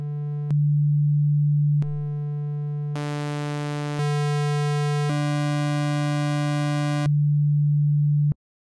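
Pure sine tones from a Logic ES2 software synthesizer, alone and steady, each held a second or two, with brief breaks between notes and some richer waveform tones mixed in midway.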